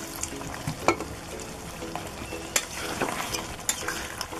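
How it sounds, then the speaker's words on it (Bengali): Curry stirred in a pan after a little water is added to stop it sticking, a soft continuous sizzle under irregular scrapes and knocks of the spoon against the pan, close and moderately quiet. "নিচে একটু লেগে লেগে যাচ্ছে, তাই সামান্য অল্প পরিমাণে একটু জল দিয়ে রেখে নেড়ে নিচ্ছি।"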